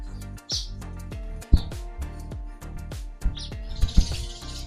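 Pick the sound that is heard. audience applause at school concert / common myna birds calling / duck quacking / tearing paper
common myna birds calling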